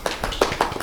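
A small audience claps for a husband-and-wife real estate duo being introduced, a short burst of several distinct claps in quick, uneven succession, close and fairly loud.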